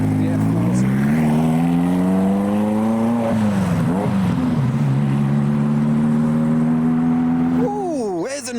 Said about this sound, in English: Downshifting through all the gears into the car meets.